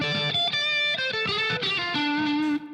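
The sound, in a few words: electric guitar with reverb effect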